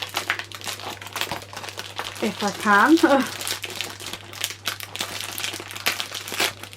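Plastic crinkles and rustles in short bursts, loudest for a moment near the middle, while a person speaks throughout.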